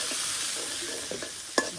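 Chicken frying with garlic, ginger and cumin on a clay stove, a steady close sizzle with a few soft stirring scrapes and a sharper knock near the end.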